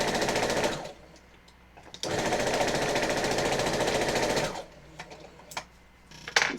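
A sewing machine stitching quilt pieces for a horror-themed quilt runs in two long, steady bursts of rapid mechanical chatter, separated by a short pause, then stops into scattered handling clicks and taps.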